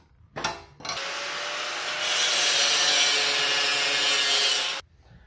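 Metal pieces for a sim racing rig seat extension being cut, a steady rasping saw stroke that starts after a short tap and runs for several seconds, growing harsher midway before stopping abruptly.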